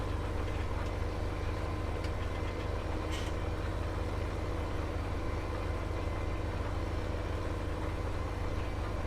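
A tractor engine in Farming Simulator 17 runs at a steady low drone, idling or working at constant revs, close and continuous for the whole stretch with no talking.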